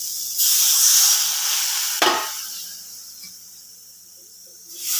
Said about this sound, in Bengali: এর মধ্যে আমি এবার জল দিয়ে দেবো।